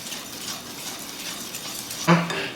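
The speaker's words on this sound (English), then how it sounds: "We're just gonna stir it all up." Whiskey being stirred into an apple cinnamon cake mix in a bowl, a steady soft scraping swirl with a sharper utensil clink near the end, close by.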